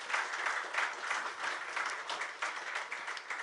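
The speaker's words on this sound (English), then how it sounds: "Have a round of applause for the people over here." An audience at a press conference breaks into applause, a brisk crowd of clapping hands with slight pulsing swells, steady and fairly close.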